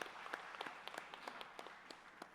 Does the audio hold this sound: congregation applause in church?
yes